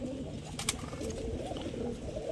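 Pigeons, including silver and chila varieties, coo softly with low repeated murmurs over faint background noise, along with a brief flutter.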